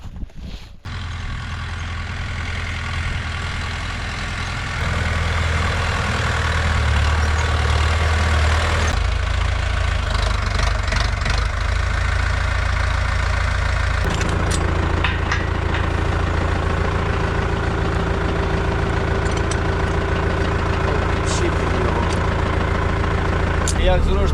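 A Scout TE-504C tractor idles before disc harrowing in a cold autumn field. A steady, close, low engine drone runs throughout and grows louder after a few seconds, with a voice heard at times.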